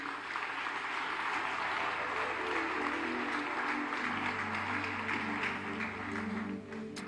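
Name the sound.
congregation applauding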